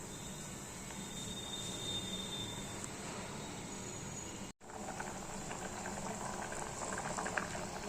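Mung bean curry with crushed peanuts bubbles steadily in a pot, a continuous close simmering fizz and popping that is briefly cut off once, with no voices.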